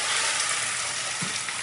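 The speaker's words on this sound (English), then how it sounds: "I'm gonna let them sear 3 minutes per side" Scallops searing in oil in a pan, patted dry and salted, give a steady, even sizzle that fills the short moment, close and moderately loud, with no talking.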